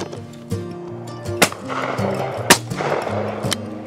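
Shotgun shots at a pheasant shoot in Wales: several sharp reports, some close and some distant, spaced roughly a second apart over a steady low engine-like drone, with no talking.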